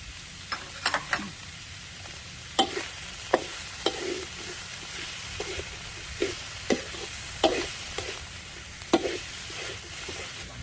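Coarsely chopped shallots frying in a pan for Thai sago dumplings with pork filling: a steady background sizzle broken by scattered scraping and tapping strokes as they are stirred.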